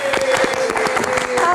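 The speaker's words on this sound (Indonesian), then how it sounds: "Kita kasih tepuk tangan lagi untuk Aulia Sarah" Studio audience applauding to welcome actress Aulia Sarah on a talk show, a brief burst of dense clapping with a host's voice speaking over it.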